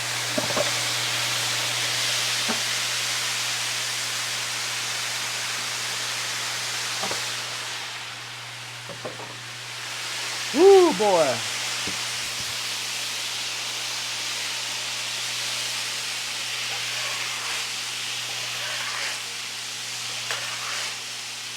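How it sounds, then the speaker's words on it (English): Water is poured onto a hot grill after cooking a wagyu steak, and steam hisses in a soft, broad wash that rises and fades. A man exclaims partway through, and a low electrical hum runs underneath. "one of the tricks to getting all the crud off your grill is just to pour water on it"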